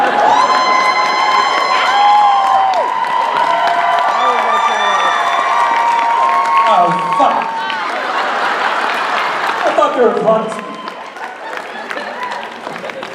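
A crowd at a Supernatural convention panel at JaxCon 2018 cheers, shouts and claps in a dense, loud wash that thins toward the end, while people talk and exclaim over it.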